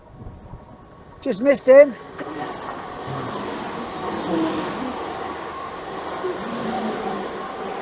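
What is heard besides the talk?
train passing at the seaside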